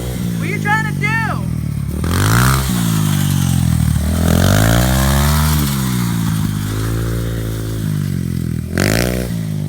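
A dirt bike engine revs up and down in repeated rising and falling surges, close and loud, while voices speak over it throughout.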